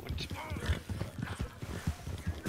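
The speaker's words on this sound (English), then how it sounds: "I haven't ridden this horse in a while" Horse hooves clip-clopping in Red Dead Redemption 2, a steady rhythm of soft thuds under game sounds and voices, with a hint of whinny.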